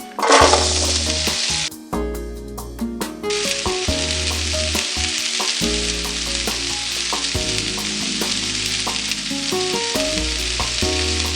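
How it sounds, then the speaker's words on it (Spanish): Potatoes fry in hot oil with a loud, dense, crackling sizzle that runs throughout, broken by a brief dip near the start and occasional stirring clatter against the pan. "Y vamos a freír las papas."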